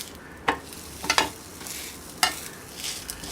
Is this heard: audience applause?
no